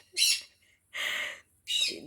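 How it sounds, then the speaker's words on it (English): Pet birds indoors let out three loud, harsh squawks in quick succession, close and clear, with short gaps between them. "that's my birds going off behind me"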